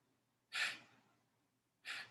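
Two soft, breathy exhales, each with a quick onset and a fading tail, come during a breathing exercise. They are separated by a quiet pause in near silence.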